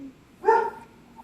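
A dog barks once at people or deer outside, a single fairly loud close bark standing out from a quiet room.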